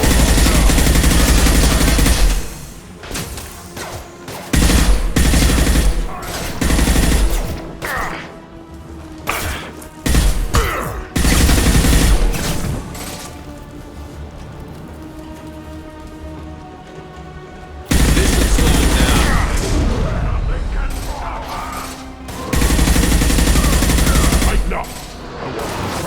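Firefight in the video game Mass Effect 2: bursts of rapid automatic gunfire and heavy shot volleys crash in loud waves, broken by quieter stretches of scattered shots, with spoken voices in the mix.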